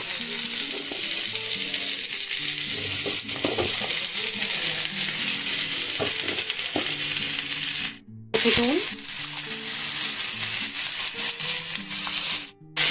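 Bitter gourd and pumpkin hit hot oil with already-fried onions, giving a loud, steady sizzle with stirring clatter and a brief dip partway through, while a voice murmurs faintly underneath.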